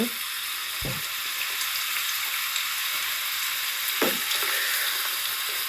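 Paneer fries in butter in a pan with an even, close sizzle throughout, broken by two soft knocks of a utensil against the pan.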